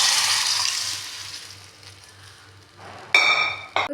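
Tamarind water is poured into a pan of mashed brinjal and potato for Chettinad gosmalli, a splashing hiss that fades out, then a couple of sharp metallic clinks of a utensil near the end.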